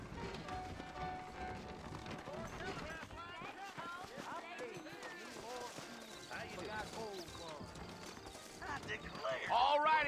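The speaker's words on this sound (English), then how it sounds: "I got the horses saddled up and ready out front." Horses trot with steady clip-clop hoofbeats through a Red Dead Redemption town scene, the rhythm running under game dialogue and music throughout, with a brief louder swell near the end.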